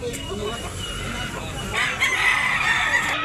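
A bulik rooster crows at a gamefowl market in Tabunok, Cebu, its call rising out of loud crowd chatter and general outdoor noise, with other fowl clucking nearby.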